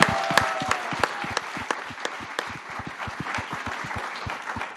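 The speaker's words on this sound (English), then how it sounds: "I've never had this, so thanks so much for this applause" A crowd at a Berlin startup pitch contest applauds a founder taking the stage, with sharp individual claps standing out in an uneven rhythm over a softer wash of clapping.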